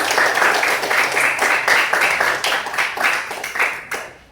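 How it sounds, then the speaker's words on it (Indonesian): Pupils in a classroom applaud a student, a loud burst of many hands clapping in a fast, dense patter that holds steady for several seconds, then fades out. "Tepuk tangan dulu untuk Claudia."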